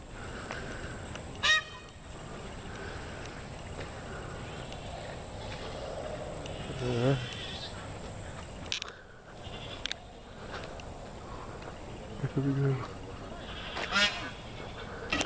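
Geese honking outdoors outside Indian Echo Caverns, scattered loud honks at moderate distance over a constant background hum, with a brief spoken remark.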